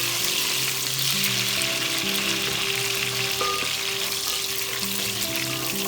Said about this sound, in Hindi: ऑयल के साथ ही इसमें हम शामिल करेंगे प्याज,